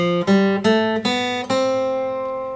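An acoustic guitar plays a short rising major-scale run, five clean plucked notes stepping upward at an even pace, close and clear, with the last note left to ring and fade.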